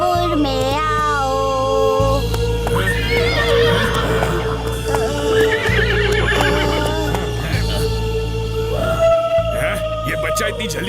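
A cartoon horse whinnies in several drawn-out, wavering neighs, with rhythmic clip-clopping hooves and background music running underneath throughout.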